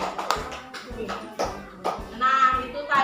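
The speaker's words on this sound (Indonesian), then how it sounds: "Oke, tepuk tangan" Children in a classroom clap their hands in a few uneven, sharp bursts of claps spaced apart, with voices talking between and over them.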